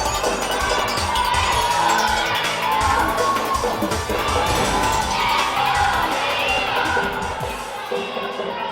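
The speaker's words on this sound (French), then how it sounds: "Sinon, c'est la foule qui réclame." Crowd of spectators at a youth hockey tournament game, loud and sustained cheering with children shouting and whooping throughout, easing slightly toward the end.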